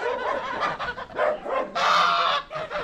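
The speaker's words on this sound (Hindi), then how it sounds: "घर के अंदर में मुर्गी बत्तख घूम रही है भाई," Poultry kept inside a village house in China, including chickens and ducks, honk and squawk in a loud, busy series of overlapping calls close by.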